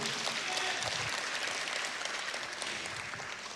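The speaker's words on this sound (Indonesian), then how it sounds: "Tepuk tangan lebih meriah." A church congregation breaks into applause during a sermon, a broad, continuous rush of clapping that holds steady and fades slightly toward the end.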